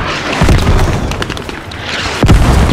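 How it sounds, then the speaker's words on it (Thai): Heavy artillery shells land in the military shooter game Squad, with two deep, loud booms about two seconds apart and rumbling debris between them. "อันนี้ปืนใหญ่ไม่ใช่มอท่านี่คือปืนใหญ่"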